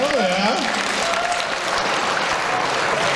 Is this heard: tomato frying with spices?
no